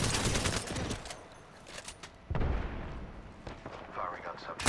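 Gunfire rattles through an Apex Legends firefight in loud bursts, one strong volley opening the stretch and another cracking in midway, with a voice talking over the shooting.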